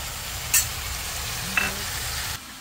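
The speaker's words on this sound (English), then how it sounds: "Now let's stir this in." Pumpkin and squash with a little sugar stirred in a pot, a steady soft sizzle and scraping throughout with a couple of brief clinks, fairly close, with no talk.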